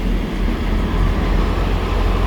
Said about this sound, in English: Oh wow, that's a full train as well.